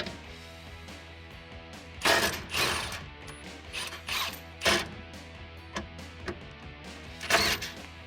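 Socket wrench on 15 mm bolts of a 2019-2020 Chevrolet Silverado 1500 front bumper, quiet ratcheting clicks in irregular bursts with pauses, close and alone.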